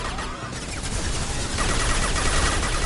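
Dense gunfire in Mass Effect Legendary Edition, a continuous crackling barrage of overlapping shots, loud and close, with no talking over it.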